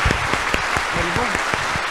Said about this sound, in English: I hope that you could join me in giving them a round of applause